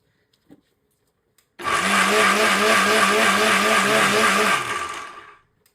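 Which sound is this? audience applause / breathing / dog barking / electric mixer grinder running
electric mixer grinder running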